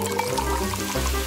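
Sprite pours into a glass smeared with strawberry syrup, a steady close liquid stream with a gurgling, fizzy trickle that runs for about a second without any speech.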